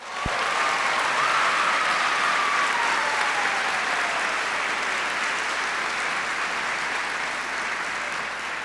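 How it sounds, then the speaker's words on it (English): Audience applause for student performers at a university presidential inauguration, a broad, even roar of many people clapping that holds steady for the whole stretch, with a brief tone sliding faintly underneath early on. "How about a round of applause for them?"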